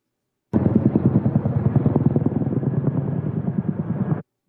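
A Chinook helicopter's rotor chop thumps in a fast, steady rhythm, heard alone for about four seconds as a strong, close recording that starts and stops abruptly.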